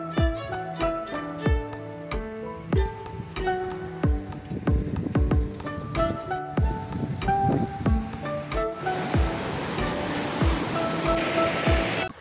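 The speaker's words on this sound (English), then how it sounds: "This horse will take us to cross the river." Horse hooves clip-clop steadily through rushing river water on a mountain trek in Georgia's Caucasus, the rhythmic steps loud and close over constant splashing flow.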